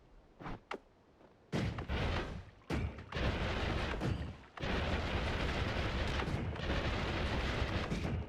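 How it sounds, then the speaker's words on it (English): A delayed explosion spell in Noita goes off as a few sharp bursts, followed by heavy rumbling blasts that roll on continuously and loudly for several seconds. "Have a delayed explosion."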